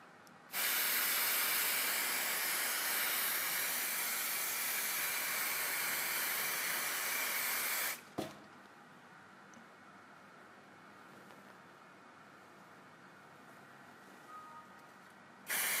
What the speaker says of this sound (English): it also might be a good idea to put some anti-reflex spray on it